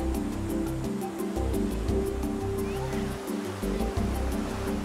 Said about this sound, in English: Onigajo, sculpted by the roaring ocean